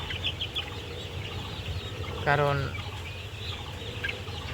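Sonali chickens on a poultry farm give a single loud, close cluck amid steady farm background noise, with someone talking over the flock.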